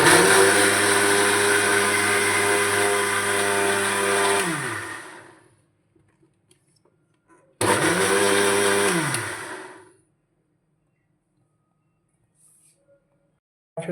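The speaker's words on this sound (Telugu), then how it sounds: "మనం మిక్సీ పట్టు" Electric mixer grinder blending sponge cake batter with milk and a pinch of salt, two loud whirring runs that each wind down to a stop, separated and followed by quiet.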